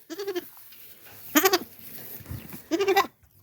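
Goats bleat three times, loud and close, their wavering cries separated by short pauses over quiet background noise.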